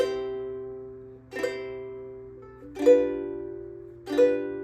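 Ukulele strummed once every two beats on Auld Lang Syne chords, four clear ringing strums with each chord decaying before the next, played alone and close.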